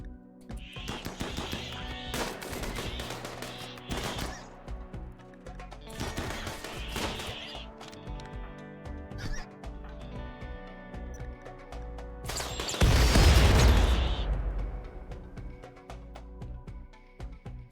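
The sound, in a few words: triple rocket launcher firing, from video game Rimworld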